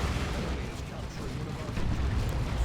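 A double las cannon volley from a Predator tank in Dawn of War 2 hits a Dreadnought, giving a dense, rumbling blast that lasts the whole moment and blends with battle noise and a commentator's voice.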